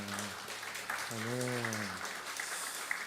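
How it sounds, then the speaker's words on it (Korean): Congregation applauding during a Korean Sunday church worship service, a moderate steady patter of clapping with a sustained sung or spoken voice rising over it in the middle. "우리 감사의 박수, 우리 찬양의 박수 올려드리겠습니다"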